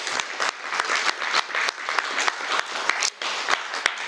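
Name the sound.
applause for the speaker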